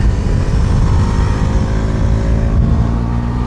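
A Bajaj Pulsar NS400Z motorcycle ridden slowly over a bumpy track entry on soft suspension gives a steady, continuous low engine rumble that stays close and even throughout, with no talk over it.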